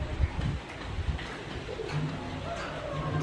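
A pet hill myna calls repeatedly indoors, begging for food, with short cooing, tonal calls over a low, busy room background and faint voices nearby.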